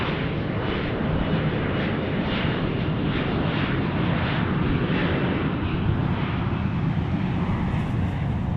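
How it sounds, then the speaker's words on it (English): An Embraer E-175 airliner departs for Los Angeles with a loud, continuous jet roar that pulses slightly and holds steady, heard from outdoors. "there goes our E-175 off to Los Angeles"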